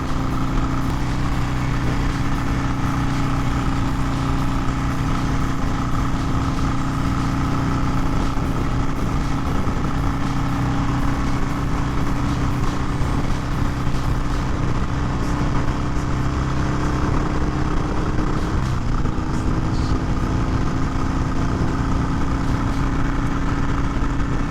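A 2020 Harley Davidson Sportster cruising on a highway, a steady, loud, close engine drone with constant wind and road roar and only slight shifts in pitch throughout.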